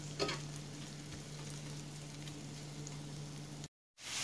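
Onions caramelizing with balsamic vinegar in a pan make a low, even sizzle with a soft scrape or two near the start, steady and close before it briefly cuts out near the end.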